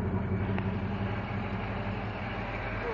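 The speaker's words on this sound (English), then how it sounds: "The motor's running smooth." An overhauled OMC stringer boat engine runs steadily nearby, a smooth, even low rumble that holds for the whole stretch without any speech.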